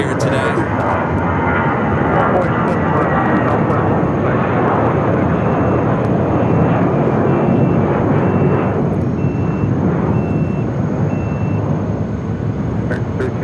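A Southwest jet airliner takes off from runway 7 left at Phoenix Sky Harbor, its engines roaring loud and sustained through the whole stretch while a voice talks over the noise.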